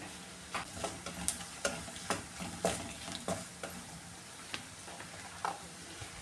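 Chili powder heats in a pan over a low flame while a spoon stirs it, making a soft, even sizzle. Regular close scraping knocks sound about twice a second.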